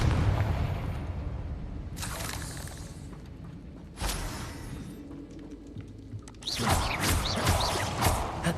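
Confringo blasting spells exploding in Hogwarts Legacy, a series of sharp booming blasts with whooshes, three or four bursts spaced a couple of seconds apart, the last a longer crackling eruption.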